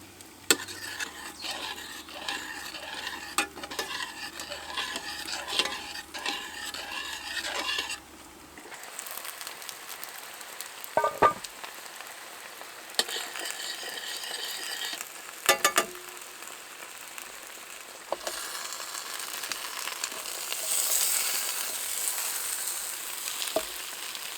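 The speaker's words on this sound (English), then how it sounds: "We'll just give it a wee stir." Pork and vegetable sauce reducing in a Dutch oven over an outdoor stove gets a slow stir, with a soft bubbling sizzle, intermittent scraping of the spoon against the pot and a few light metallic knocks, no voices.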